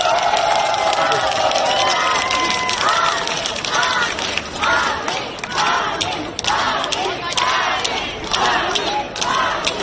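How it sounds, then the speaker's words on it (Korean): A large crowd at an outdoor campaign rally claps and cheers, with repeated rhythmic surges of shouting over dense, continuous clapping and babble. "여러분 다시 한번 큰 격려의 박수 부탁드립니다"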